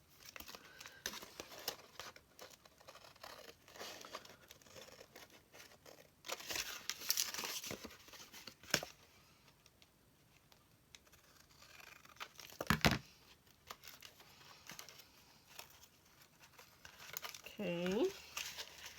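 Paper leaves being trimmed for a junk journal pop-up: faint, scattered snips and crinkles of paper close by, with quiet crumpling between the cuts.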